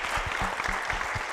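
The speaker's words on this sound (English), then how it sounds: "Give this young man a clap." Audience applause for a young speaker on a panel, a brief burst of steady clapping from a moderately distant crowd.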